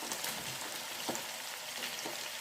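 Chicken frying in a pan with cubed onions just added, giving a steady close sizzle with faint crackles and occasional stirring clinks and no talking.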